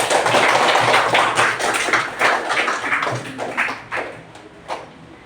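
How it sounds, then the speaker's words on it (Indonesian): A class of young children clapping together in a primary classroom, a dense burst of many small hands that tapers off over a few seconds, with a low background hum. "Beri tepuk tangan buat Anda."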